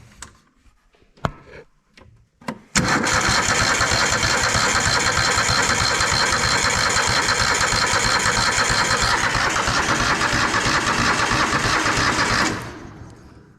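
A John Deere L130 riding mower pulled from the woods gives a few sharp clicks, then cranks and catches, running loud and steady at a close idle for several seconds before it cuts out and dies away.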